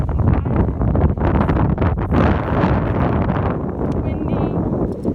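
Wind on the beach at Captiva at low tide buffets the microphone in loud, gusty low rumbles with rustling, and a voice talks over it.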